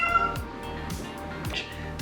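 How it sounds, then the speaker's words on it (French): A house cat gives a short, fairly faint meow near the start, followed by quieter indoor background sound with no speech. "Je pense que mon chat, il jase."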